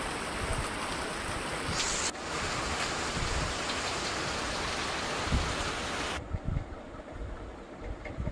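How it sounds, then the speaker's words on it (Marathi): Heavy rain hisses outside at a moderate distance in Kankavli, Maharashtra, a constant broadband wash that cuts off abruptly near the end, leaving faint low thumps. "मी बाहेर बघितलं तर खूपच पाऊस होता"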